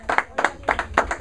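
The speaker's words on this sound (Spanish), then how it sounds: "Dale otro aplauso al Señor." Congregation clapping for the Lord during a church service, several short bursts of applause in quick succession, fairly close and moderately loud, with no speech over it.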